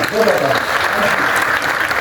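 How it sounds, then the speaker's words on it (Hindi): Loud, steady applause from the audience at an Urdu conference session at the Arts Council of Pakistan in Karachi, sustained dense clapping with some voices mixed in throughout. "जोरदार ताली"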